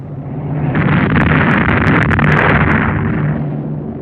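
Heavy aerial bombing of Caen in July 1944 by heavy and medium bombers dropping high explosive and fragmentation bombs produces a sustained, loud rumbling explosion that swells, holds and slowly fades, with crackling bursts, without speech.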